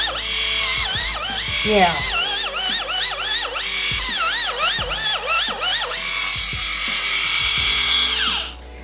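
A pedicure machine with a coarse bit whirs against thick heel skin, close and steady, its high pitch rising and dipping repeatedly as pressure changes, with a brief word spoken.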